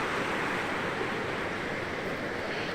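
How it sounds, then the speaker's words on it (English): A river flows right beside a campsite in bear country, giving a steady, close rushing wash of water that runs on unbroken and fairly loud throughout. "Probably a little noisy out here, just right next to the river."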